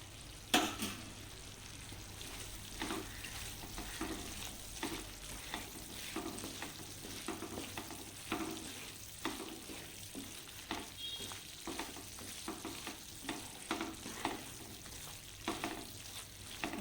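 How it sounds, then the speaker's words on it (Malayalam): Pork frying in a pan with green chillies and curry leaves gives a low, even sizzle, broken by repeated scraping stirs at a steady pace, quiet and close, with no voices. "കുറച്ചും കൂടി ഫ്രൈ ആകാനുണ്ട് ഒരു അരമണിക്കൂർ കൂടി കഴിയുമ്പോഴേക്കും ഫ്രൈ ആകും"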